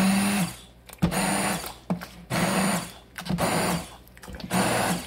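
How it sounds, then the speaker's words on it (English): Hand blender chopping garden vegetables into a chunky salsa, running in a series of short bursts of steady motor whir separated by brief pauses, close and loud with no talking. "now we're ready to blend it"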